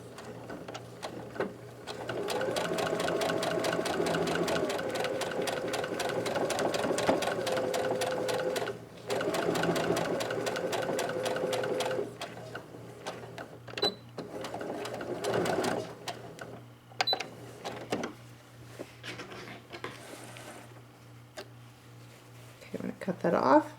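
A sewing machine runs in long steady bursts while stitching a fabric face mask 3/8 inch from the edge of the presser foot, with pauses between runs and a voice talking quietly in between.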